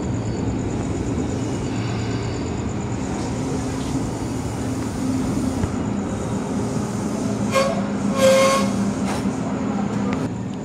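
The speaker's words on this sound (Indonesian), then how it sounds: "Oke teman-teman, ini KRL-nya sudah dipindah ke jalur sebelahnya." A former express Tokyu 8500 series KRL electric commuter train, unit 8518, rumbles along the track with a steady low drone and brief higher metallic squeals near the end, heard from close by.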